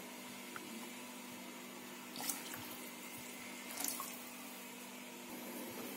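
Water pours steadily from a kitchen tap into a pan of semolina, a continuous soft splashing rush with a couple of brief louder sloshes and no talking.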